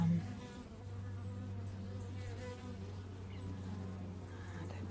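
Honeybees buzz steadily and densely up close on a hive frame in a colony with a failing queen, a constant droning hum of many wings with a low mechanical hum underneath.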